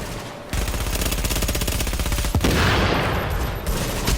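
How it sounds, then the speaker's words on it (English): Rapid automatic gunfire with exploding bullets from The Division video game, a dense sustained burst of loud shots with a sharp crack partway through and no talking. "one of my tools, exploding bullets"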